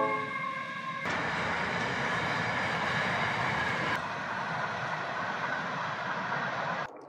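A train rumbles past on a railway track beside a campsite, a loud, sustained rolling roar with a metallic hum that starts abruptly, holds steady for several seconds, then cuts off, with no speech.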